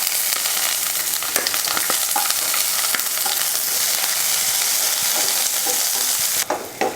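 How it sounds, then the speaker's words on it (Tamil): Dried red chillies and a large onion frying for chutney give a loud, steady sizzle close to the pan, broken by stirring clatter throughout. "வரமிளகாயை வறுத்ததுக்கப்புறம் ஒரு பெரிய வெங்காயம் அதையும் சேர்த்துக்கலாம்"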